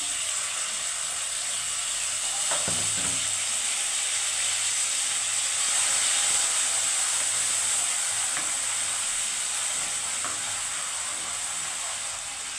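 Bay leaf, garam masala and ground tomato paste sizzle steadily in hot oil in a pan for a Bengali bhetki fish mustard curry, a loud continuous frying hiss with a few faint stirring clinks, no voices.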